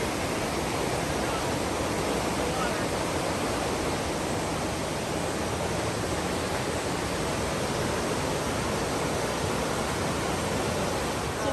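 Water roars over river shoals in a Tennessee state park, a steady, even broadband rush heard from some distance, constant and unbroken with no voices.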